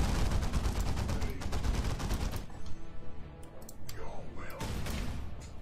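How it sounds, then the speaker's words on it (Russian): Explosive strike effects with increased power in a video game under development: dense, rapid blasts and crackling bursts, then a thinner spell of scattered pops before the barrage picks up again. "Эффект обычных и эффект страйка взрывных с увеличенной мощностью."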